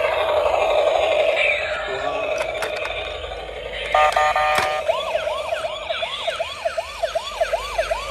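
An electronic toy ambulance siren wails in rapid rising-and-falling sweeps after a burst of beeping tones, with whirring motor noise underneath.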